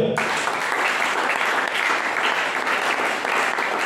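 A church congregation at a Monday evening intercession service applauds to acclaim the Lord, with sustained dense clapping that stays loud and even throughout, with no break.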